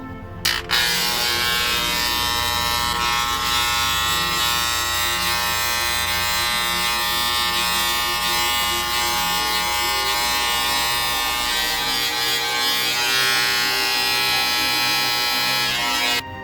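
Electric hair clippers trim hair to a one-inch length during a home haircut, giving a steady, close-up buzz that runs unbroken for the whole stretch with no talking.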